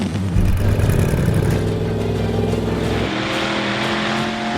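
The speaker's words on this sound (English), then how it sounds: "The sound of these engines. Whew. It's like an aircraft kicking into life." Custom vehicle engines from the Mad Max: Fury Road film shoot roar loudly up close, a heavy revving growl that holds steady, then drops in pitch and settles into a rougher idle.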